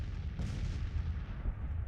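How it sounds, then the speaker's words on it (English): Artillery fire in the Civil War strategy game Grand Tactician, a deep muffled boom near the start followed by a rolling low rumble of distant cannon fire lasting about two seconds. "Bartow's guns in a good position to wreak havoc on this mob of Federal troops"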